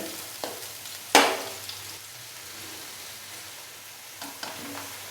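Onions for beef yakhni pulao soften in a pot with a soft, continuous sizzle, broken by a sharp scrape of stirring and a few lighter clatters.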